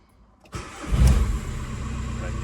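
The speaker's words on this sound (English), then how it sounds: "And I think it's time to give this car a start to allow the oil to circulate through the filter and components." A VW 1.9 TDI PD130 diesel engine cranks and fires up after an oil service, catching with a loud burst and then settling into a steady, close idle.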